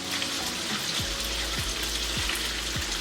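French toast slice sizzling in a hot pan, a steady close crackle and hiss running throughout with a few soft low thumps, no talk.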